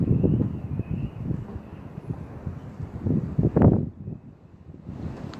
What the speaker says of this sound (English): Apparently it's too windy